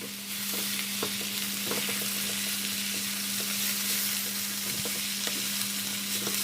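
Chicken, vegetables and sweet corn stir-frying in a pan over medium heat, a steady sizzle with scattered scraping clicks of stirring, no voices.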